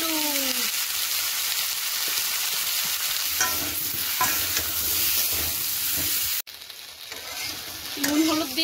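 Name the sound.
vegetables frying with salt and turmeric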